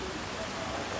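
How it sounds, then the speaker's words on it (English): Steady rain falls on an outdoor pool at a seaside motel in Lennox Head, New South Wales, a soft, even hiss of drops that continues without a break and stays fairly faint throughout. "it's raining at the moment, so we're getting video of the pool and the rain coming down"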